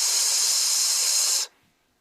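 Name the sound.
voice imitating a hissing S sound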